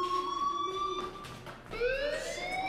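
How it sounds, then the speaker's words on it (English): An electronic fire alarm in the video game Life Is Strange wails with rising and falling tonal sweeps, a steady siren-like cycle heard at moderate volume. "do you hear that fire alarm? That means you should be outside."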